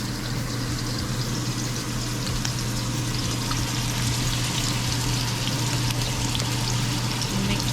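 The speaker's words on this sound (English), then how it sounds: "And now we add a little water in here." Water poured into a pan of frying onion for duck curry, producing a steady, loud hissing wash of sizzle and liquid that runs without pause.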